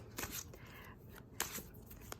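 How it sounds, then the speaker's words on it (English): A tarot card deck being shuffled, with several quick riffling bursts of cards, close and fairly quiet, with no talking. "But I do love the way it shuffles."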